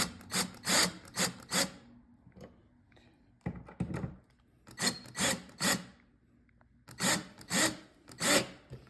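A wrench tightens bolts on a TV wall mount in short rhythmic bursts of scraping ratchet strokes. The bursts come in three groups separated by pauses, close and fairly quiet, with no voices.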